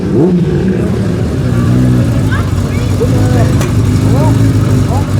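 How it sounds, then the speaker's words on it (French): Vintage racing motorcycles warm up at the Iron Circuit Carole event, several engines idling and blipping into revs together at close range, a steady loud mechanical drone with brief rising throttle chirps, people talking under it. "Donc là les mecs ils font chauffer les brels."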